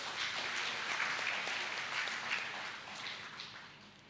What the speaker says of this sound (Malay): Tepukan untuk mereka.